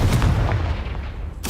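Confringo fire spell blast in the video game Hogwarts Legacy, a brief booming explosion with deep rumble that fades quickly, followed by a short sharp crack at the end.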